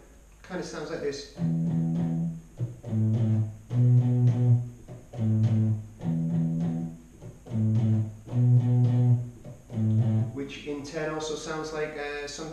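A guitar picks out the Futurama theme tune on individual strings in a beginner lesson, repeated short plucked phrases of a few notes in a steady rhythm, close and clear with pauses between phrases.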